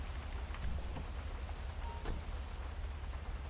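Rain falls in the video game GTA 5, a steady close hiss of drops that runs alone without pause.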